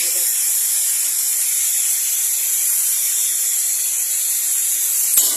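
Fish frying in a pan with salt and turmeric gives off a steady, even hiss and sizzle that stays level throughout, with a small clink near the end.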